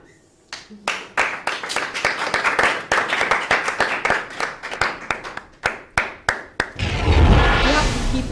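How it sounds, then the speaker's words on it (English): Guests clapping at a cake cutting during a party, a burst of many hands in a fairly rhythmic pattern, strong and near, ending in a rushing noise after about seven seconds. "clapping till they all step out"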